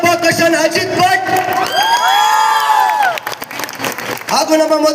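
An audience at a live music show roars for the performers, with long drawn-out whoops and shouts soaring above a thick wash of crowd noise and scattered clapping, then dropping back before another burst of cheering.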